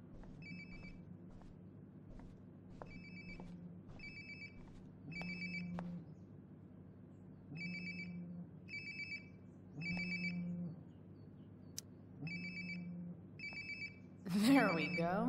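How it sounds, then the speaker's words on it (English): A phone rings repeatedly in the video game Life is Strange: Before the Storm, steady patterned electronic ring bursts at a regular rhythm over a low hum, followed by a sudden burst of noise at the end. "Sounds like my phone is definitely nearby."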